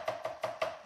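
A kitchen knife chops an onion on a cutting board with four quick, crisp strokes in an even rhythm, close and fairly quiet.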